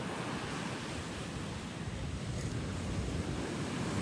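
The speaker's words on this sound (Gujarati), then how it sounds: "અત્યારે પવન ઘણો છે" Strong wind blowing steadily at a sea shore during a fishing outing, a continuous loud broadband rush with surf-like roar and no distinct waves or voices.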